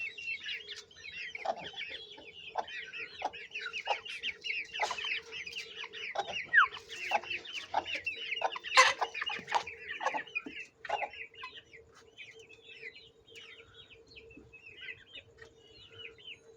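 An Aseel hen, a pure game breed from Amritsar, clucks repeatedly in quick, uneven bursts. The calls sound fairly close over a low hum, with no talking.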